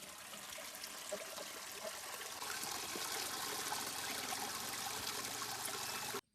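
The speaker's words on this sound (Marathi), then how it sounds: "ही जीवामृत स्लरी आपण ह्या फिल्टर मधून कशी गाळून घेणार आहे ते आपण बघू" Jivamrut slurry trickles and splashes steadily through a drip fertigation filter, a continuous broad watery rush that grows slightly louder midway and then cuts off abruptly near the end, with no talking.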